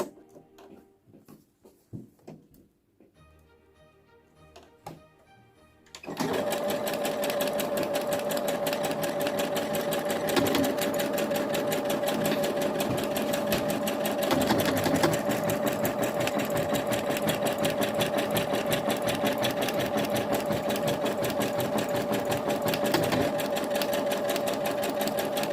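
A sewing machine stitches a buttonhole. A few soft handling clicks come first, then a continuous, steady motor hum with rapid needle chatter runs close and loud for about twenty seconds.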